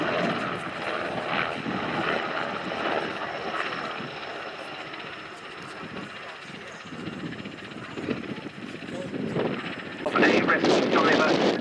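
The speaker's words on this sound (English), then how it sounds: "The helicopter there at about 100 feet above ground level" A rescue helicopter hovers about 100 feet above the ground at the Duxford Battle of Britain airshow, its steady rotor and engine roar rumbling continuously and swelling louder toward the end, with wind buffeting the microphone.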